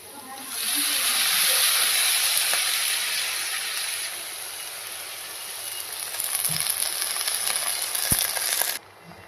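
Drumstick leaves frying in a pan with reddened onion and turmeric, a steady close hiss of sizzling throughout that swells slightly near the end, with a soft clink or two, then cuts off abruptly.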